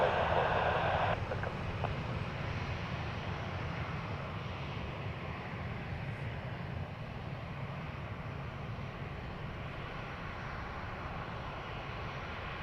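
A Ryanair airliner at Dublin Airport produces a continuous broadband jet roar, steady and fairly distant, with a brief brighter hiss at the start and radio chatter faintly under it.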